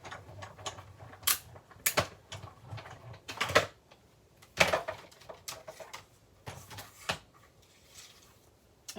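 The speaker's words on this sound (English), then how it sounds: "So let me die cut these two together real quick." A die cutting machine works vellum and white cardstock through together, giving a run of sharp mechanical clacks and ratcheting clicks with irregular spacing, fairly close and loud, without any voices.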